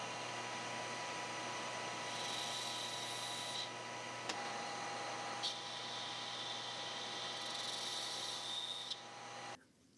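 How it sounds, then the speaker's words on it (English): Lathe hard-turning hardened steel with a cubic boron nitride insert with a chipped tip, a steady, fairly faint machine hum and hiss with a thin high whine rising in stretches and a couple of brief clicks. "This is a cubic boron nitride insert meant for hard turning, which is just a fancy way of saying you're turning hard materials"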